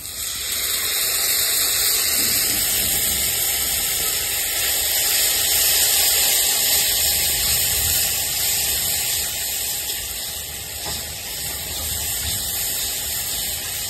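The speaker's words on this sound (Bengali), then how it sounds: "এখানে আমি টমেটো পেস্ট দিয়ে দেবো" Tomato paste hits oil-slicked fried onions for a prawn and pointed gourd gravy, raising a loud, steady sizzling hiss that holds for about fourteen seconds with no voices.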